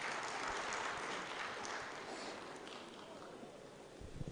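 An audience at a health fellows' graduation ceremony in Plateau State claps, making a dense, steady wash of applause that slowly fades over several seconds.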